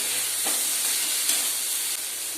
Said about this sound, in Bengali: কর্নটা দিয়ে আমি মশলাটা একটু নাড়াচাড়া করে নেব